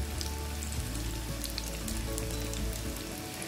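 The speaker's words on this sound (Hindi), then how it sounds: "बस इसको इसी तरह से शैलो फ्राई करेंगे।" Chicken shami kababs shallow fry in a pan over medium-low heat, giving a dense, even crackling sizzle with faint popping, steady and close throughout.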